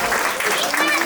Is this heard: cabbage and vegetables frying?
no